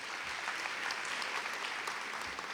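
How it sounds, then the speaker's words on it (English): An audience at the 2016 Delaware State University convocation claps steadily, a dense and even wash of applause that carries on for the whole stretch with no voices over it. "Let's give everybody a round of applause one more time."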